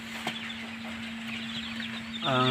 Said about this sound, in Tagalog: mga pinisang, mga napisa na manok pa yan